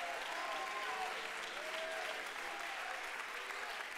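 Church congregation at a district conference clapping and shouting, a steady wash of applause with scattered voices calling out, sustained and somewhat distant.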